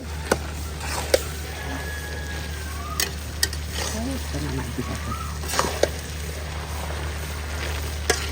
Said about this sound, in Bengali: কাঁঠালটা তেলের উপরে আসছে